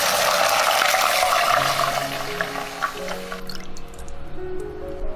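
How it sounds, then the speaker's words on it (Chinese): Water is poured into caramelized rock sugar in a hot wok while braising pig intestines Chaoshan style, a loud bubbling sizzle and splashing that settles into a quieter simmer. "糖色炒好了之后呢，就来加入清水"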